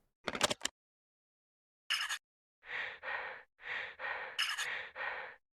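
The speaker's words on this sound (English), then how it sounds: "Her heavy breathing makes me nervous." A woman's heavy breathing in the Vangers game, sounding as a short rapid gasp, then a sigh, then a run of slow, loud, raspy breaths in close succession, with no talk.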